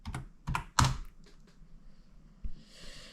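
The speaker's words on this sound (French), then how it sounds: "vous allez taper télécharger" Quick bursts of keystrokes on a computer keyboard while entering a download search for Linux Mint, a few close clicks in clusters with short pauses between.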